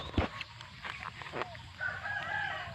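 A rooster crows in rural Thai farmland in the late morning: a drawn-out call rises near the end over an outdoor background, after a few scattered knocks and noises.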